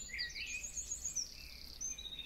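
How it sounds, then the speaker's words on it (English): Birdsong plays quietly in the background, with a run of thin, high chirps and tweets repeating steadily over a low hum. No one speaks. "I'm accompanied by my "you need to do your work" bird noises"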